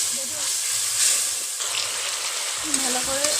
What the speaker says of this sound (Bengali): এতে হলুদ গুঁড়ো দিয়ে দেবো। মশলাটা ভালো করে ভেজে নেব।